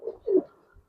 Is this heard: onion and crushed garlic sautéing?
no